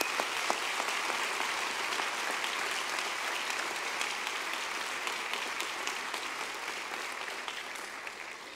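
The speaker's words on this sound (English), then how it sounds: "give your parents and family a big round of applause" Sustained applause from a large university commencement audience, dense steady clapping that holds evenly throughout at moderate loudness.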